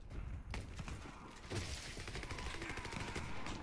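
AS50 sniper rifle fire in the video game Warface, heard as faint, repeated sharp shots over a busy, noisy game soundscape.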